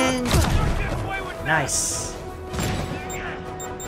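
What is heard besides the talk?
rocket launcher fire and explosions in Spider-Man PS4 video game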